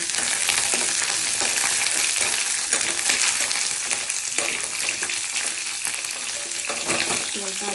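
Capsicum fries in very hot oil for paneer dal tadka, with a dense, loud, crackling sizzle that lasts the whole stretch. Spatula scrapes and clinks come through now and then.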